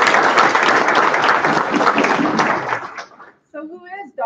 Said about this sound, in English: So if we can give him a round of applause for being the director.